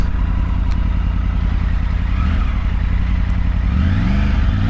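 Triumph Tiger 900 Rally Pro motorcycle ridden through slow manoeuvres, a loud, close engine burbling steadily at low revs with a brief rise in pitch near the end, mixed with wind rumble.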